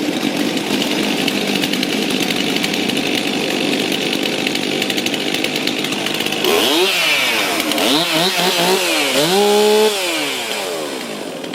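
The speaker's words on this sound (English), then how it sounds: "This chainsaw only vibrates at the highest revs." A chainsaw roars close by at high revs, steady at first, then its pitch swoops up and down as the throttle is revved repeatedly.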